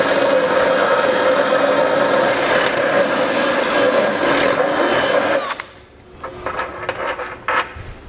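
A 2022 Subaru Forester's frame hole is enlarged by hand for hitch hardware, giving a loud, continuous close scraping and rasping for about five seconds, then quieter intermittent scrapes and taps.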